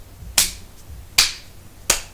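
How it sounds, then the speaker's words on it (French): A single person claps hands three times, sharp and close, with pauses of nearly a second between claps and no other sound. "J'applaudis."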